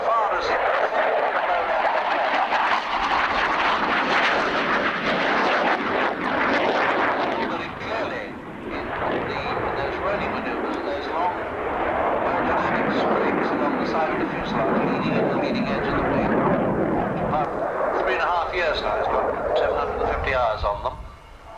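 An aircraft making a comparatively slow, gentle pass at the 1989 RAF Scampton airshow produces a loud, sustained roar that swells and eases over about twenty seconds, with a commentator speaking over it.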